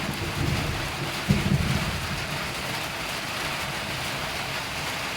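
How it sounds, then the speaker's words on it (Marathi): Rain falls steadily on a village during a thunderstorm, and low thunder rumbles beneath it. A louder roll swells about a third of the way in, then settles back into the constant hiss of rain. "ढगांचा आवाज बघा कसा येतोय."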